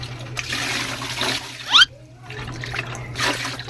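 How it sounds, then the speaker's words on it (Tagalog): Squid being rinsed under running tap water before cooking, a steady splashing stream with a brief louder gush partway through over a low background hum. "Hugasan muna natin itong pusit natin"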